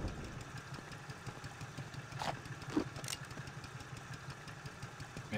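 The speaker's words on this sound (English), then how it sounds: "What's with the engine noise?" Generator-like engine noise from the video game Indiana Jones and the Infernal Machine: a low, steady, faint mechanical drone throughout.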